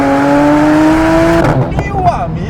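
A Porsche 911 Turbo S engine holds a loud, steady high whine that drops off, then rises again after a downshift, close and intense, with a person's voice over the top.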